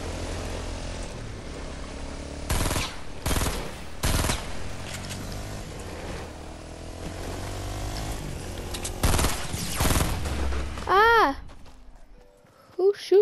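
Gunfire in the video game Fortnite cracks out in several separate sharp bursts, some doubled, over a steady bed of game ambience, with a rising electronic chirp near the end.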